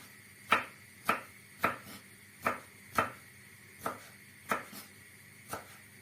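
A knife chops vegetables on a cutting board in a loose rhythm, roughly nine distinct close thuds, moderately loud with quiet gaps between and no voices.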